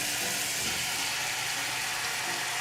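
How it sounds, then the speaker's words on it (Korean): Pork pieces frying in a pot before kimchi stew is made, a dense, loud, continuous sizzle and hiss heard up close with no voices. "고기가 맛있게 볶아지고 기름이 충분히 나왔다면"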